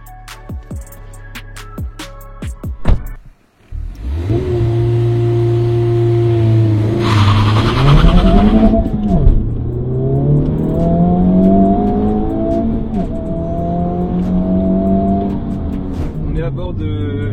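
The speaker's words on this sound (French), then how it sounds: "À bord de la Honda Civic Type R donc sur le circuit du Mas-du-Clos." A 2023 Honda Civic Type R on the Mas du Clos circuit: a loud onboard engine note climbs through the gears with rising and falling revs and brief shift dips, after some short bumps and knocks at the start.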